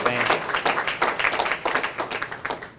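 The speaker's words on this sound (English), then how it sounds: "let's give a round of applause to APOL" A short burst of clapping from a small group at a scholarship luncheon, a steady patter of hand claps lasting a few seconds at moderate volume.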